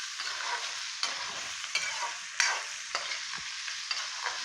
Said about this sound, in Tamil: சின்ன வெங்காயம் கொஞ்சம் ஃப்ரை ஆயிடுச்சு.